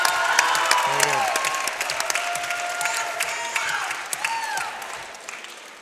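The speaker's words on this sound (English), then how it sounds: "One more time, a real big round of" Applause from the crowd at a boys' high school basketball game, a sustained wash of clapping with some scattered whistles and cheers that slowly fades over several seconds.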